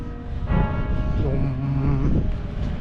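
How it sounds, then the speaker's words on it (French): Church bells ring out along a street in Troyes, a steady sustained chiming heard in the open air over wind and faint street noise. "Les cloches qui sonnent."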